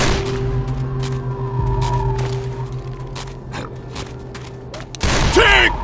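A rapid burst of sharp explosive cracks and pops from a pipe bomb in Left 4 Dead 2, irregular bangs scattered over a humming background, ending in a louder blast with a voice shouting.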